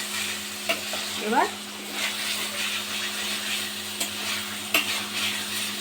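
Chicken pieces being stirred and fried in a pan, with a steady low sizzle and a few scraping stirs from a spoon.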